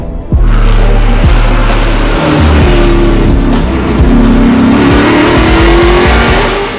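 LIQUI MOLY Chevrolet Camaro Trans Am race car screaming down the track at high revs, a loud sustained engine roar with rising and falling pitch as it shifts, close and continuous with no talk, at a street-circuit Grand Prix in Nashville.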